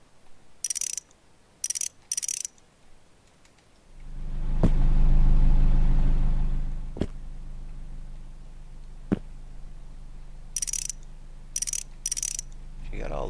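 Car assembly in a town-rebuilding video game: clusters of short high-pitched ratcheting and clicking part sounds at the start and end, with a loud sustained low mechanical rumble in the middle punctuated by sharp clicks.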